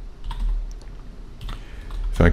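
Typing on a computer keyboard comes as a few scattered key clicks, ending in a louder short burst of taps, under low background hum.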